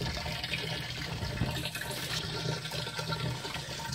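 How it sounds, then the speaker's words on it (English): Water from a solar-powered well pump, drawn up a long line to a small faucet, pours steadily into a can, making a loud, continuous splashing rush close by with no talk. "You can see it's putting water in the can."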